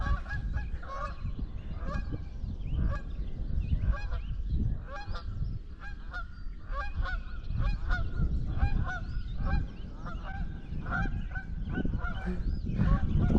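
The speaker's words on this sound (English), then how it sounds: "Look at the geese." Geese honk repeatedly in a steady outdoor chorus, a flock calling near and far through the whole stretch over constant background noise, with no talk.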